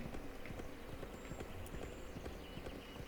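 Horse hooves gallop in a steady, rapid clip-clop rhythm in the Wild West Dynasty video game, close and continuous for the whole stretch.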